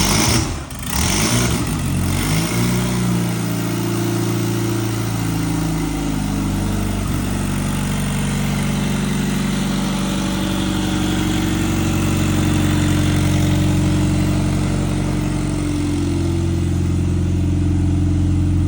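A car engine idles and is revved before a dyno run, a loud close rumble with a sharp rev near the start, then pitch rising and falling in slow swells as the throttle is worked.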